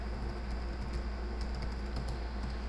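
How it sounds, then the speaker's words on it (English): Typing on a computer keyboard while setting up a SQL Server connection, a steady run of quick close key clicks with no talk. "Put a colon after the database name and type in"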